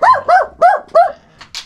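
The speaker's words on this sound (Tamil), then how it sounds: "நாய் கட்டி போட்டு." A dog in Cuba barks four times in a quick, loud, close run of sharp barks, then lets out a couple of softer, higher yips.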